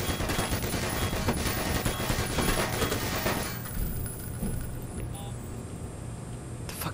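A Black Mesa auto turret fires in a confined space, a loud, dense stream of rapid shots lasting several seconds before tapering into quieter rumbling.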